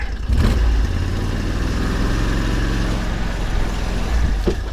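A loud engine rumbles steadily at low pitch, revving slightly as a small amphibious Argo 8x8 all-terrain vehicle pulls away, close and continuous throughout.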